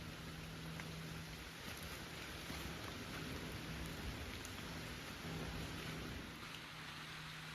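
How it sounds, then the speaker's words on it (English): Heavy rain pours down in a dense, steady roar at Cape Elizabeth, Maine, a constant wash of drops hitting surfaces with a faint low rumble underneath. "it's actually pouring down rain"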